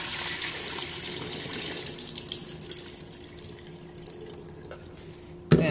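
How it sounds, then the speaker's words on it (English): Dirty rinse water is poured off washed sushi rice, splashing from the container in a steady trickling stream that tapers off, ending with a sharp knock. "Get rid of the excess dirty water."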